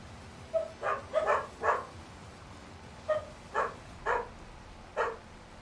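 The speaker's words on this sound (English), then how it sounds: "They really are the worst alert dogs ever because they bark at everything" Dogs barking in short bursts, a cluster of three or four barks followed after a pause by several more spaced barks, moderately near over a quiet background.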